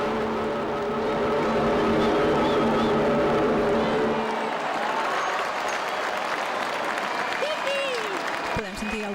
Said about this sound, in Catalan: Podem sentir el fort aplaudiment quan s'han encès aquestes lluminàries